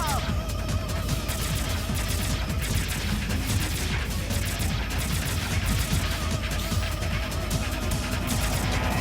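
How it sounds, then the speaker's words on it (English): Dense, continuous gunfire and explosive bursts from mech combat in the video game Zone of the Enders: The 2nd Runner, loud and unbroken throughout with layered booms and crashes. "I'll shoot it down."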